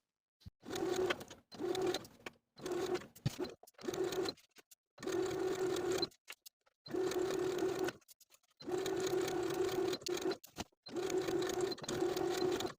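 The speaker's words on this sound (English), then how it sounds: "we're going to take it to the sewing machine and sew from one bottom outer edge all the way across" A domestic sewing machine edge-stitches a hem on a 1960s tie-collar top in a series of steady whirring runs, some short and some several seconds long, separated by brief pauses, close and clear.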